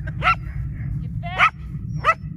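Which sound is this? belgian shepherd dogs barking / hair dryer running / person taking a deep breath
belgian shepherd dogs barking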